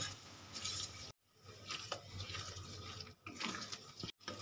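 Spices being sautéed and stirred in a pan over a medium gas flame, giving a steady soft sizzle with scraping stir strokes, broken by a few brief pauses.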